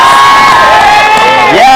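A studio audience of boys and girls at a TV game show cheers and shouts loudly for a contestant, a dense, sustained roar of excited young voices.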